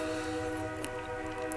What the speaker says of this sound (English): Why are there a train running at 1:30 in the morning?